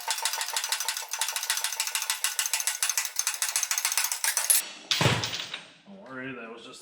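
A socket wrench ratchets steadily while transmission gears are removed from a J series gearbox, a fast regular clicking for several seconds, then a sharp metallic clatter as the socket drops, followed by a voice speaking.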